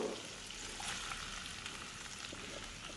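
Sliced onions sizzle in a hot pan for Chettinad pepper chicken, a steady broadband frying hiss that holds evenly throughout with faint stirring texture and no voices.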